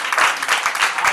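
A church congregation at a sermon claps together in a steady rhythmic beat, loud and close, several evenly spaced claps in quick succession.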